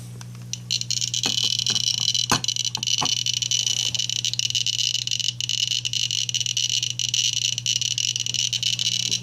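Irregular sharp clicks of a GMC-300E Geiger counter held near Fiesta ware dishes crackle over a steady electrical hum and hiss, scattered and uneven in timing.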